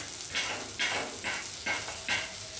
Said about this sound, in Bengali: আর এখন পেঁয়াজ আর কাঁচা লঙ্কাটা পাঁচফোড়নে ভাজা হচ্ছে।